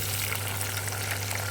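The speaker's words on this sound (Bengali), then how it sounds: "এবারে দেবো পেঁয়াজ কুচি" Chopped onions hitting hot oil for Chicken Darbari, a dense steady frying sizzle filling the short moment, with a low hum beneath.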